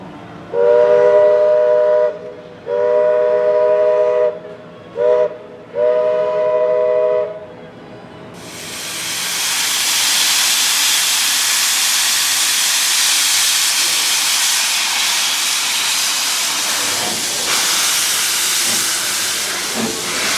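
A steam train whistle sounds in several long blasts, then a loud rush of hissing steam swells and keeps roaring as the Walt Disney World Railroad train pulls away from Main Street Station.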